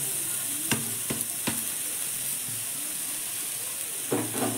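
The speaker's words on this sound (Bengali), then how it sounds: "শাকটা তো আমি কেটে এনেছি, তো এবার কড়াতে দিয়ে দিলাম" Chopped kalai greens fry in a wok with a steady hissing sizzle, punctuated by a few sharp clicks and clatters of stirring.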